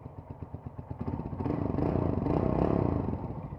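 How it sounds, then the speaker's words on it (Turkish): Honda CB 150F motorcycle with a 150 cc engine and Akrapovic exhaust, running close by with a steady pulsing idle that swells into a louder rev around the middle before easing back. "Şu an Akrapovic egzozum var."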